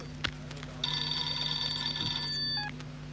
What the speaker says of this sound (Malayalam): Sir phone.